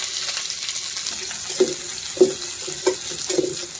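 Chopped onion sizzles in hot oil in a kadai with dry red chilli and tempering spices, a steady hissing fry broken by a few soft clinks and stirs.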